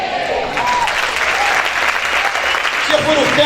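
Church congregation applauding steadily, a dense wash of many hands clapping together with faint voices threaded through, sustained and fairly loud throughout.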